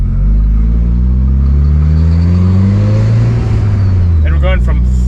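A straight-piped 700 WHP Mitsubishi Evo engine revs loud and close, climbing steadily toward 8000 rpm as one sustained roar, with a rattle near the top of the pull.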